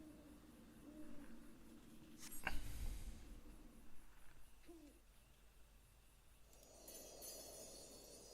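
Bird hooting in Final Fantasy XIV, faint owl-like hoots over a quiet ambient background with a couple of soft thuds.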